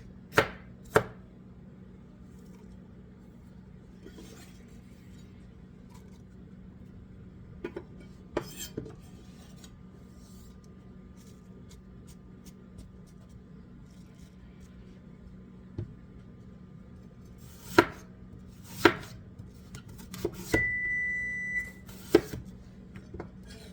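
Apples are diced on a cutting board: scattered sharp knife chops, a few in quick pairs and clusters, fall over a quiet room hum, with light clinks of utensils and a short beep near the end.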